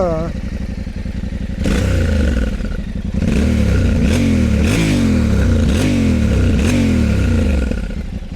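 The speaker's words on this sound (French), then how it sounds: "Et le bruit qui est toujours sympa pour un pot d'échappement d'origine" A Yamaha Tenere 700 World Raid motorcycle with stock exhaust idles then revs repeatedly, rising and falling in quick throttle blips with a throaty, fairly mellow exhaust note close by.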